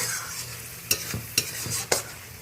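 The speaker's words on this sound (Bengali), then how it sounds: "মশলাটা ভালোভাবে কষিয়ে নিচ্ছি।" Spice paste for a katla fish curry with potol and potato fries in oil, a soft background sizzle broken by three sharp scraping clacks of a spatula stirring against the pan.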